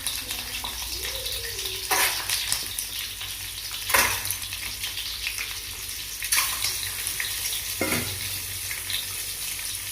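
Egg frying in hot oil for egg masala, a steady sizzle broken by a few sharp crackling bursts, close and fairly loud, with no talking.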